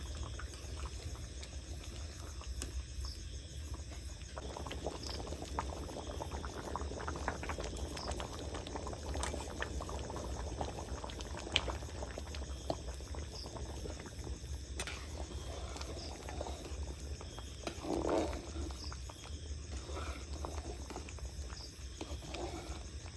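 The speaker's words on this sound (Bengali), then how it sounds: "চাল প্রায় ফুটে গেছে" Chicken khichuri with nearly cooked rice bubbles softly in a karai, a faint, continuous low simmer with scattered small pops and the odd clink, unbroken by speech.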